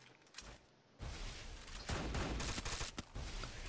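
Shotgun blasts in a shooting video game: quiet at first, then loud, dense booming shots and bursts from the one-second mark onward, several sharp peaks crowding close together.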